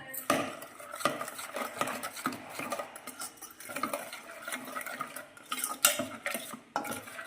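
Ragi idli batter being mixed by hand in a metal vessel, with repeated wet squelching and scraping strokes and occasional clinks against the pot, close and steady throughout.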